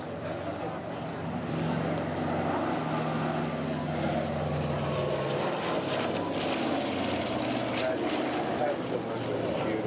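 Steady, loud drone of Wright Duplex Cyclone radial piston aircraft engines at an airshow in Shellharbour, running continuously, a dense rumbling roar that holds throughout.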